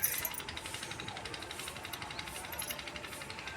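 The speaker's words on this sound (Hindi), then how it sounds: "उधर वहाँ खेतों में वो ट्रैक्टर चल रहा है" A tractor works in the fields on a hot day, its engine a steady, rough mechanical rattle heard from some distance, continuous and fairly loud throughout.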